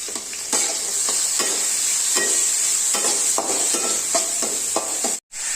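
Chopped medium onion frying in a pan for masala dosa, stirred with a spoon that scrapes and taps in a steady rhythm over a continuous close sizzle, with a brief drop near the end.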